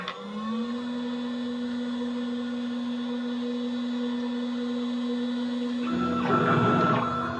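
A CNC machine runs a cutting job with a steady, loud whine and hum that holds for several seconds. Near the end it turns into a harsher, noisier grinding burst, and no one speaks.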